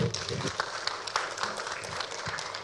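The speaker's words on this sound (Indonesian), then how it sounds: "Boleh tepuk tangan dulu?" Audience applause at a public debate between regency head candidates in Cianjur, a brief, moderately quiet patter of clapping from a hall crowd.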